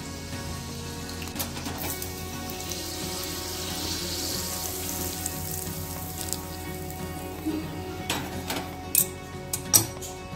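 Chili tempering (phodni) sizzles steadily in hot oil for a cucumber koshimbir, a continuous close crackling hiss with a few sharper pops near the end.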